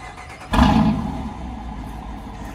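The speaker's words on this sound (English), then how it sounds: "But I'm gonna start it up so y'all can hear the sounds." A car with a mid-muffler delete, already warm, starts abruptly with a loud burst of engine noise, then settles into a steady, rumbling idle close by.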